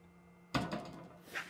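The 3D-printed PLA door of an Elegoo Centauri Carbon 3D printer swinging on its hinge, a sudden close wooden-sounding knock followed by a short rattling movement and a faint scrape, heard alone.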